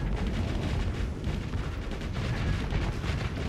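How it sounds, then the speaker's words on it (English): Artillery fire during a space fleet battle in the video game Starsector, a dense, continuous rumble of heavy booms and blasts rolling without pause at moderate loudness. "Oh, yeah, artillery."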